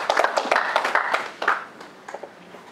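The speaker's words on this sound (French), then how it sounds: "Applaudissez pour vous-même." A small group claps by hand in a burst of sharp, fairly close claps that thin out into a few scattered ones before stopping.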